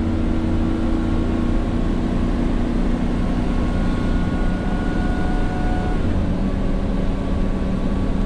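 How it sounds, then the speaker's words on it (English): A 2005 Winnebago Itasca Suncruiser 35U Class A motorhome on a Workhorse chassis climbs a hill at around 45 mph. Its engine and road noise form a loud, steady, unbroken drone from inside the cab, with no one speaking. "Transmission sounds great. No slipping."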